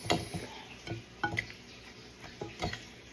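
A spoon stirs lime into black bean filling for a healthy wrap, making soft scraping and tapping knocks against the bowl in an uneven rhythm, close and moderately quiet with no talking.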